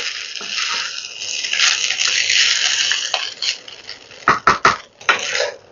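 A spatula scrapes and stirs fried rice in a pan with a sizzling hiss, then several sharp metallic clinks and taps near the end.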